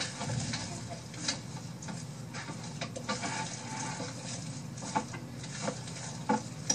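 Thick cream soap batter is stirred in a pot, soft scraping and sloshing strokes repeating quietly at close range with a few sharper knocks of the utensil.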